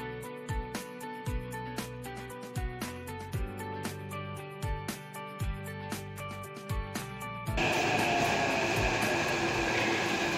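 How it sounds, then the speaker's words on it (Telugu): A Hyderabad metro train ride: steady rolling rumble with rhythmic clacks and thumps of the carriage, then a sudden louder broadband rush near the end, no speech. "మెట్రో ఎక్కి"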